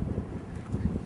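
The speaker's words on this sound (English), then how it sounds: "you can feel the wind beginning to pick up, and there's damp in the air." Winter wind rising outdoors as snow approaches, a low, gusty rumble buffeting the microphone steadily at a faint to moderate level.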